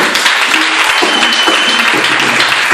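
Church congregation applauding during a Sunday worship service, a dense, steady wash of many hands clapping throughout, loud and continuous with a faint murmur of voices underneath.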